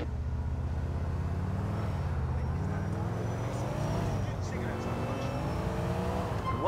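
A car driving in Grand Theft Auto IV, its engine humming and shifting pitch as it accelerates through the streets, steady and near, with people talking over it.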